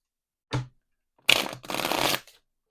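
An Animal Spirit Oracle card deck is shuffled in two close bursts: a short riffle, a pause, then a longer fluttering riffle of cards.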